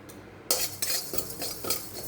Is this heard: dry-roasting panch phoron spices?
yes